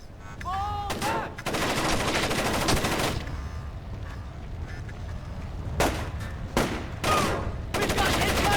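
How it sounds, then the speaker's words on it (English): Bursts of gunfire from the Splinter Cell Chaos Theory video game, loud rapid shots in several clusters with pauses between, mixed with other game sounds and brief voice-like tones. "We've got incoming shots!"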